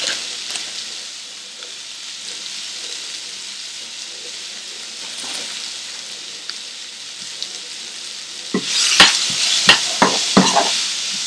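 Chopped onion and curry leaves hitting hot oil in a pan for prawn chilli fry, a steady soft sizzle and stirring, then a louder burst of crackling and spattering near the end.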